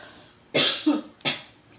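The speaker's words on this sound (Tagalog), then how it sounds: "dahil nag-uubo-ubo ako eh" A person coughing twice in quick succession, close and fairly loud, each cough a short harsh burst with a brief throat-clearing tail, no talk.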